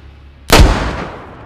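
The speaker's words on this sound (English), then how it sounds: "You can actually place a grenade on the floor and shoot it." A grenade set on the ground in DayZ is shot and goes off in one sudden, loud, sharp blast after a quiet moment, followed by a short decaying rumble.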